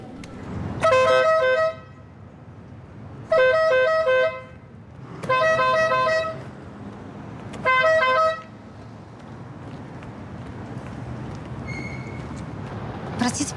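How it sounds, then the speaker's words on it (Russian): Four loud car horn blasts in an irregular pattern, each lasting about a second, over faint background traffic noise. "мне кажется, это вам сигналит"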